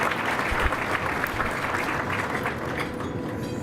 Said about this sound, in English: So if we could give them a round of applause as well.